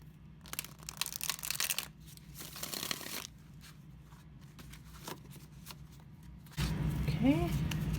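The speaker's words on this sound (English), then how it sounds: "So I'm going to go ahead and shuffle this" Tarot cards are riffled and shuffled in several quick bursts separated by short pauses, fairly close, followed by a brief louder rustle.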